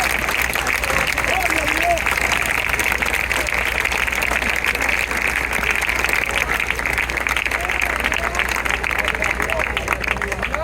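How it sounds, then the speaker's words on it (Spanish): Congregation at an evening church service applauds, a steady, sustained wash of clapping and crowd noise under a persistent hum, with voices mixed in throughout. "Denle un fuerte aplauso al Señor."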